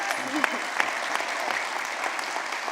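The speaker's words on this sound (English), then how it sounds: "So let's give her one more round of applause." Audience applause at a live song and story premiere, steady clapping from a crowd with a voice speaking over it.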